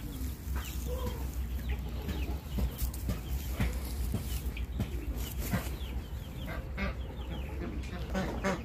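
Chickens on a farm in winter cluck steadily, a mix of close and farther birds calling over continuous barnyard noise, with no talking.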